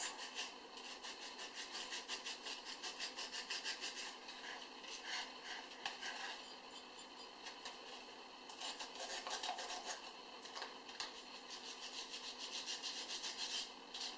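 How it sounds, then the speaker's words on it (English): Hand sanding over painted lettering on a rustic wooden board, a soft rhythmic scratchy rubbing in repeated strokes, close and fairly quiet with no talking. "I always sand over the words first"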